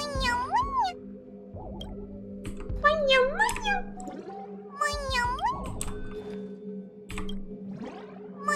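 Kittens placed in Genshin Impact let out several high, bending meows in quick bursts over a steady low game hum, clear and close.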